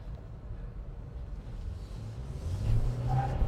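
A Mercedes G500 pulls away hard with wheel spin, a low engine rumble building steadily in loudness toward the end, heard from inside or close by with no talking.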